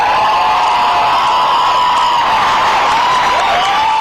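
A festival audience loudly cheers and applauds dancers with Down syndrome. Continuous crowd roar with whoops and clapping blend with a thin sustained tone, loud and dense from start to finish.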